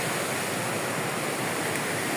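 River water rushes past a riverbank after a flood, a loud, continuous roar of broadband flowing water throughout, with no voices.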